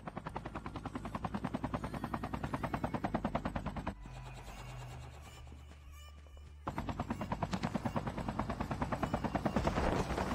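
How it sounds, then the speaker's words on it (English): A helicopter's rapid rotor chop mixes with bursts of automatic gunfire in the Call of Duty Mobile zombies mode. The rhythm thins briefly mid-clip, then returns loud and dense. "Bring the chopper."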